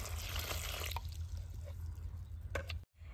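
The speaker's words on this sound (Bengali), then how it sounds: "এখন জল দিয়ে পরিষ্কার করে দিব।" Cut ash gourd pieces are rinsed with water, a close continuous splashing and trickling with a few drips before a brief cut-off near the end.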